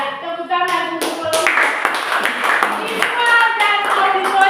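A group in a classroom session claps together, a dense burst of close hand clapping that swells and holds steadily over several seconds with voices mixed in.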